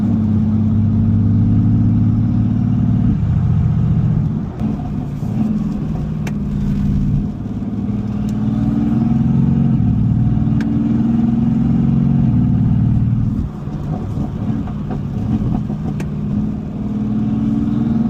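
A Mercedes-AMG GT S engine fitted with a prototype intercooler revs repeatedly, a loud, deep rumbling roar surging and dropping over several pulls, with brief dips back toward idle between them.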